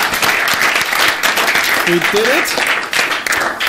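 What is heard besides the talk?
audience applause at end of conference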